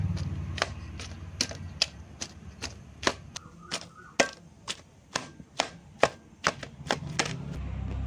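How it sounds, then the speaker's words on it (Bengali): Boiled jackfruit and potato being mashed for pakora, a steady run of sharp, close knocks and thuds at a quick, uneven rhythm for several seconds. "এখন আমরা কাঁঠাল ও আলুটাকে ভালো করে ম্যাশ করে নেব।"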